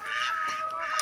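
Chickens in a farmyard coop, clucking steadily and close by with a continuous overlapping chatter of hen calls, no voices.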